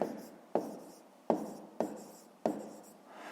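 Pen or pencil writing by hand on paper while working a grade 5 math exercise, four quick scratchy strokes each starting with a sharp tap and fading, close and quiet, no voices.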